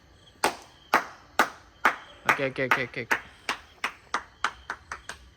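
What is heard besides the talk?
hand clapping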